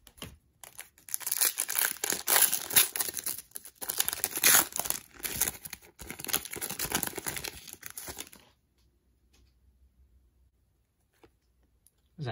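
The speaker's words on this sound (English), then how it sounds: "Packs are kind of hard to open." Sealed basketball card packs torn open by hand, crinkly foil wrappers crackling and ripping in dense, close bursts for about eight seconds, then near silence.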